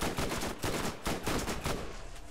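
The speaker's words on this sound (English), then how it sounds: "This spy gun is actually pretty solid." Rapid bursts of automatic gunfire from a Hyperion spy gun in the video game Borderlands, a run of sharp repeated shots in several quick strings, loud and close, with no talk.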